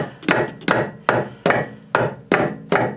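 Seven sharp metallic hammer taps on the brake lines of a 2003 Ford Explorer in a steady rhythm, each a bright close strike with a short ringing decay.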